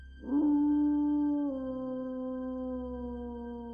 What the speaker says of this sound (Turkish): Kaybolmasından sonra uzaklardan dehşet verici bir uluma sesi duyuldu.